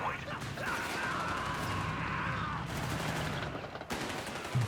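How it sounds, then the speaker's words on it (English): A volley of gunfire from infantry and anti-tank crews in a Company of Heroes 3 battle near a victory point, dense crackling shots running continuously with brief breaks, mixed with game sound effects. "so maybe you can get a second volley of shots off"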